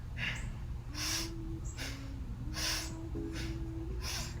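Rapid rhythmic yogic breaths during a Kundalini kriya, about five sharp bursts of inhale and exhale at a steady pace, heard close over a sustained low musical drone.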